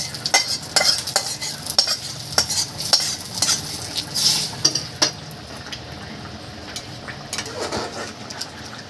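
Fried curry leaves stirred into a Bengali egg curry in a pan, close sizzling with rapid, rhythmic spatula scrapes and clinks against the metal, settling to a quieter simmer toward the end.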